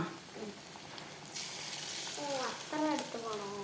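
Chicken pieces for chilli chicken frying in hot oil, a steady close sizzle with crackle and splatter throughout, voices talking over it in the second half.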